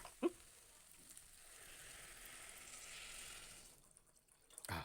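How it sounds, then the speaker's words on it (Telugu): Soft, continuous trickle of about half a litre of water being poured into a pot for a few seconds, faint and close, followed by a small clink. "నేను ఒక హాఫ్ లీటర్ దాకా వాటర్ పోసుకుంటాను"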